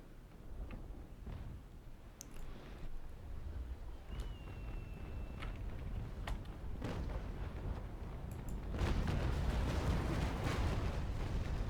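Ship cannons firing a broadside in the naval combat game Naval Action, scattered deep booms and cracks building into a heavy, rumbling volley toward the end, with no voices.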